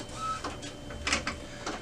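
An Epson WorkForce Pro WF-4734 printer with its scanner lid lifted shifts its ink carriage into position, giving a few soft mechanical whirs and clicks at close range with no talking.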